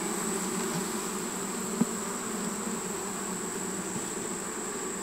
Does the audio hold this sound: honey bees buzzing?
yes